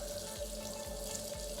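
Steady running water from a tap while face cleanser is rinsed off, a continuous close splashing flow with no talk.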